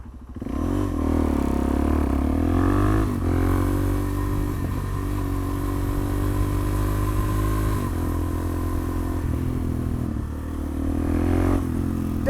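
A motorcycle engine runs loud and close, its steady throbbing drone rising and falling with occasional revs, alone without talk.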